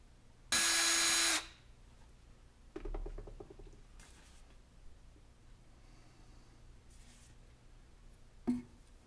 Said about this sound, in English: Long drill bit comes in handy.